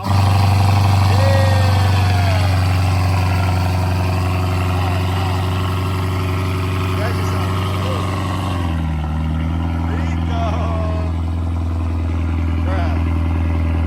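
A modified 800-horsepower Infiniti's engine idles steadily and close through its exhaust, a deep rumbling drone that drops slightly in pitch partway through, with people talking over it.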